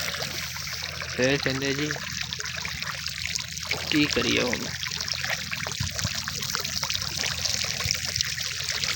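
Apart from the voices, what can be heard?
irrigation water flowing into a crop field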